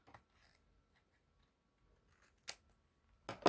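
Scissors trimming paper in a journal: mostly quiet, then a couple of short, close snips near the end.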